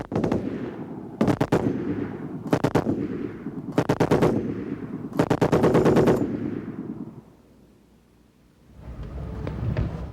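Military shooting practice on a frontline base in winter, with loud bursts of rapid automatic gunfire in four separate volleys of about a second each, reverberating echoes between them, then a quiet pause before another sound rises.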